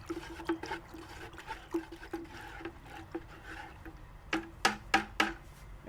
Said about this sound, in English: You have to stir it a little bit to get it to dissolve and disperse into the water.